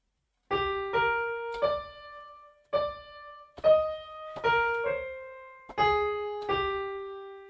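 Keyboard notes play through the yellow and green sections of a song together, a slow sequence of about ten struck tones in a steady rhythm, each decaying in turn, close and with no voice.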